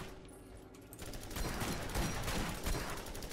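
Rapid gunfire in the co-op shooter Borderlands 4, a dense steady barrage of shots that builds after the first second and carries loudly to the end, with faint zombie-filled game ambience beneath.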